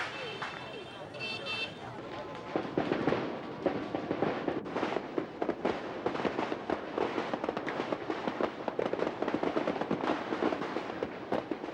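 Rockets and firecrackers burst all around a lake in Hanoi during a Tet celebration in spring 1992, a dense, loud volley of rapid crackling pops and bangs building into continuous rattling, with crowd voices underneath.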